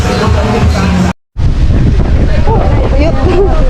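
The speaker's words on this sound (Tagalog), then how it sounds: "Ang lakas ng hangin!" Strong wind roars across the microphone on a Boracay beach, a loud buffeting rush broken by a short dropout, with faint voices under it.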